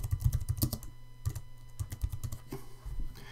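Close, crisp typing on a computer keyboard as a new calendar's name is entered in Google Calendar, rapid clusters of key clicks with brief gaps, heard alone without talk.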